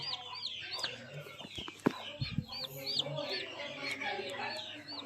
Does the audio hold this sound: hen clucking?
yes